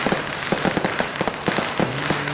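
Fireworks at a Chinese New Year (Imlek) celebration in Selat Panjang crackle in rapid, dense bursts of sharp pops, loud and continuous against a hissing background.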